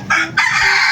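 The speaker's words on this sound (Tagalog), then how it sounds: "Yan yung ating mga manok na inaalagaan ngayon, oh." Chickens in a breeding pen, a couple of short loud clucking calls close by in quick succession.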